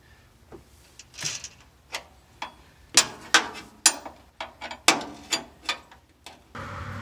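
Bolts on the cab shocks of a Kenworth T680 truck are tightened with a ratchet: a series of metallic clicks and clunks in uneven bursts, close and fairly loud, with no talking.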